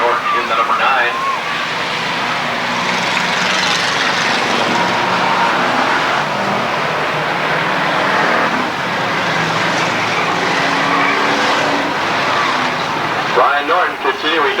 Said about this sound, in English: you see those cars running close on the racetrack right now